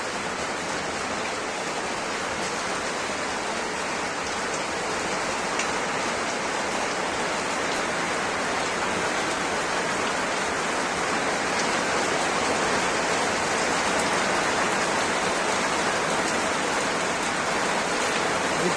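Evening rain from a Kalbaishakhi storm in Barasat, North 24 Parganas, falls heavily and steadily as a dense, unbroken wash of drops on surfaces, growing slightly stronger over the stretch with no voices.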